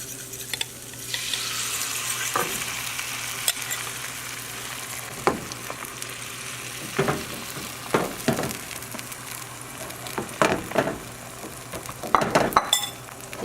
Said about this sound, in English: now we're going to add our egg